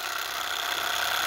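Small Stirling hot air engine running, a steady, even mechanical whir with fine rapid ticking, constant and fairly close.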